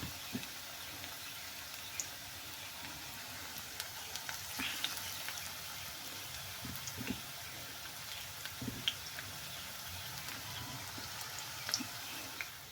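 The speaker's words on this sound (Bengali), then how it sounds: "তো চলো বড়াগুলো ভেজে নিই" Lentil fritters (bora) frying in hot oil give a soft, steady crackle and sizzle with scattered pops, fairly faint and continuous, with no voices.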